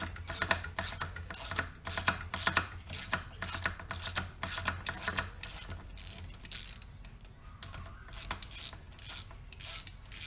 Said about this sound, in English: just back off on these bolts here